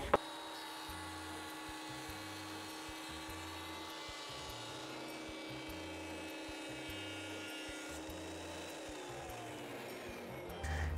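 Thickness planer taking a 1 mm pass off thin wood stock, a steady loud whine with pulsing low thumps as the board feeds through, winding down near the end.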